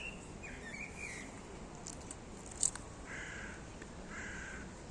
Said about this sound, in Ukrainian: Тут так співають пташки, і тут так тихо.